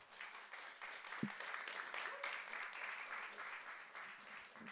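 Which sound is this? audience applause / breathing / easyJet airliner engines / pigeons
audience applause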